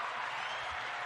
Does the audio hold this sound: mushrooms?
no